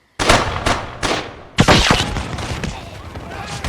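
A volley of musket fire in a British raid on a French dockside settlement, a few sharp reports followed by a heavy massed crack that booms and trails off in rumbling echoes, loud and close.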